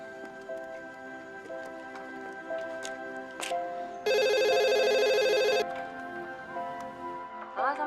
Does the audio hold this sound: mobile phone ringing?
yes